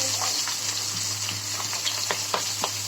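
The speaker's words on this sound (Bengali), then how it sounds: "কড়াইয়ে আমি করলা বসিয়ে দেবো, তারপরে মাছগুলো ভাজি দেবো" Bitter gourd frying in a wok, a steady close sizzle of hot oil with faint stirring scrapes and soft clicks of a utensil against the pan.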